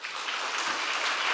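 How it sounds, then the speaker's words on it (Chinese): A church congregation breaks into a short, even wash of clapping that fills the hall briefly, with no voices over it. "拍手"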